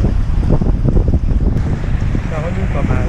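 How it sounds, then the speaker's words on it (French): Wind buffets a sailing boat at sea on a 15-knot tailwind near Porto Stefano, Italy, with loud rumbling gusts on the microphone and water rushing past the hull, while someone speaks briefly. "Nous arrivons à Porto Stefano et on a 15 nœuds de vent arrière."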